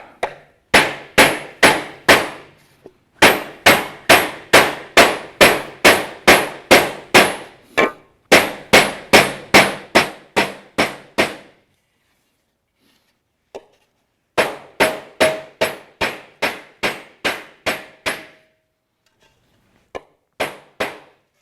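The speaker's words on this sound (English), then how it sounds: "I'm probably going to use this small hammer here. I'm going to go right down the center there and try and just bring that center up" A small hammer shapes a 0.063-inch aluminum sheet into a cafe racer motorcycle fender, striking in quick, evenly paced bursts of sharp ringing blows, with several pauses between runs and a few final taps.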